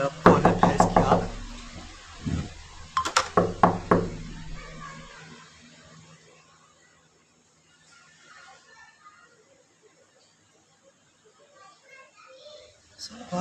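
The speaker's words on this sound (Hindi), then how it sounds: "तो दरवाजा खटखटा रहा है।" Sharp knocking on a door in quick clusters near the start, loud and close, mixed with a voice speaking, then fading into near silence.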